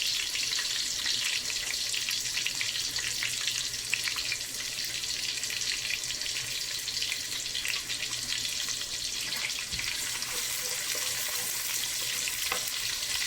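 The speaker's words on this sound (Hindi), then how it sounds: "उसमें हम एक मीडियम साइज का अनियन जो है स्मॉल काट के वो ऐड कर लेते हैं और इसको हल्का ब्राउन करते हैं" Small-cut onion browning in hot oil in a pan, a continuous close hiss and crackle of frying, steady and fairly loud, with no talking.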